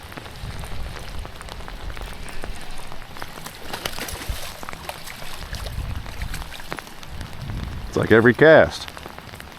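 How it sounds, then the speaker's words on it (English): Heavy rain patters steadily on a surface nearby at a dam while fishing, a dense hiss of drops, while someone speaks briefly and a louder knocking sound comes near the end. "Frickin' pouring down rain right now"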